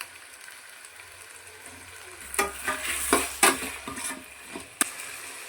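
One kg of washed chicken drops into hot tempering for Mangalorean chicken saaru and sizzles loudly, with bursts of frying and stirring that rise abruptly after a quiet start.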